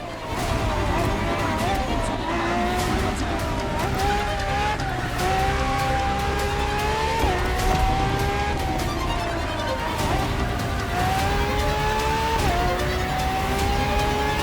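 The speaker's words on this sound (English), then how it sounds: "for this second lap, you'll be driving the FXXK" A Ferrari FXXK track supercar in The Crew Motorfest screams through its gears, the engine pitch climbing and dropping at each shift, steady and loud throughout, with tires squealing at points.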